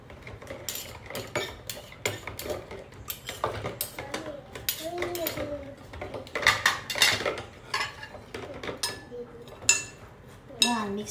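Metal utensil scraping and clinking in a pan while sisig is mixed, a steady run of close scrapes and taps with someone talking in the background.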